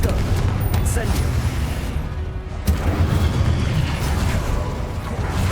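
The Confringo fire spell in Hogwarts Legacy sets off booming blasts during combat, heavy low rumbles packed with crackling bursts that run continuously and loudly among other battle effects.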